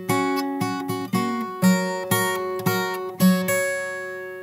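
Fingerstyle guitar picks out a short phrase of a song, plucked notes and bass tones in a steady rhythm, close and clear, about eight attacks over four seconds with no talking.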